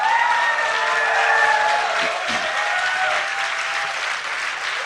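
Live crowd in a DreamHack Summer StarCraft event tent cheers and applauds for the player NaNiwa, a dense, loud, steady roar of clapping with whistles and shouts throughout.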